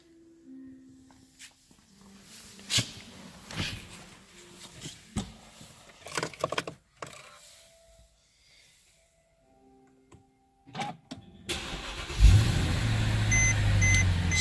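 Quiet, sparse clicks and shuffles give way near the end to the 2011 Mercedes-Benz E550 AMG Sport Coupe engine firing up: a sudden loud burst settling into a deep, close running rumble for the last few seconds.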